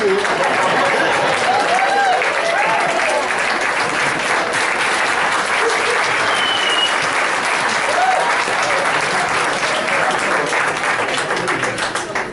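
Sustained audience applause and standing ovation at a roast of a priest, dense and loud clapping from a large crowd, continuing steadily for over ten seconds and tapering slightly at the end.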